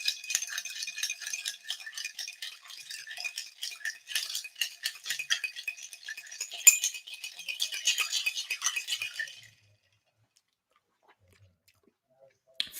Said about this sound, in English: Bit of noisy ASMR as I stir a cocktail.